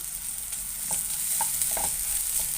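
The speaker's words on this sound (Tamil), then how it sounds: "இப்போ இஞ்சி பூண்டை போட்டுக்கிறேன்." Ginger garlic paste fries in hot oil with a steady close sizzle, broken by a few soft scraping stirs.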